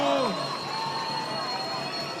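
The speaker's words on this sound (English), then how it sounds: "we hear the crowd go wild" Surf contest crowd at the Rio Pro finals cheering loudly, a dense sustained roar of voices and whistles that swells at the start and holds steady throughout.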